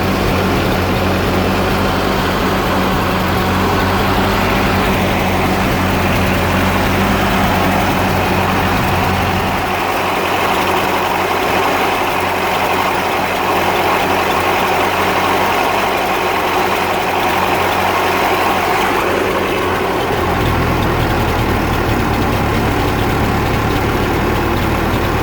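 A Ford 8N tractor engine idles steadily and close by for the whole stretch, a loud, even low rumble whose deeper tone eases partway through before returning.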